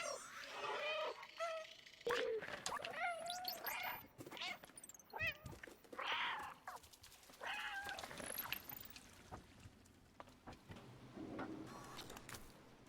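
A cat in the video game Stray meows repeatedly in short, rising cries of varied pitch across a busy game soundscape with splashes and clatter, no talk.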